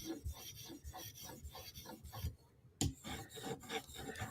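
A Spyderco knife blade being sharpened, rhythmic rasping strokes against the stone, close and fairly quiet, roughly two strokes per second with a brief pause midway.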